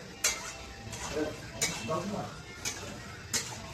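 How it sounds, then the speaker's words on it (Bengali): Liver and potatoes with masala stirred in a pan, a steady scraping sizzle punctuated by four regular sharp spatula knocks on the rim, close and moderately loud, with faint indistinct voice in places. "লিভারটা আর আলুটা দিয়ে দিয়েছি এরপরে আমি একটু ভালো মতো মিশাই দিয়ে"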